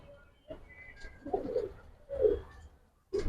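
Giribaz racer and high-flyer pigeons coo in four or five low, throaty bursts that come at a steady rhythm, close by and fairly clear against a quiet background.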